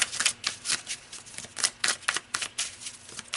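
A deck of oracle cards is shuffled close up, giving quick repeated papery riffles and flicks in an uneven rhythm of soft slaps, with no talking.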